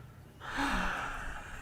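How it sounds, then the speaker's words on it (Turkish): A patient draws a single deep breath during a doctor's examination, a close, fairly quiet inhalation that swells and holds for about a second with no talking. "Derin derin nefes alınız."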